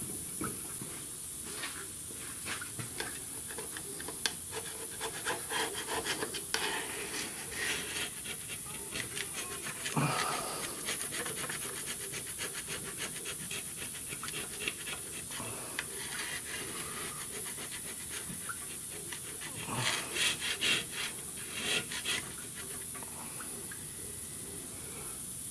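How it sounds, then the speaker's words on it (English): Scraping of pitted metal on a 1994 Dodge Dakota 2.5L engine during a water pump replacement, quiet repeated rasping strokes in an uneven rhythm, close up. "We'll scrape the rest of it."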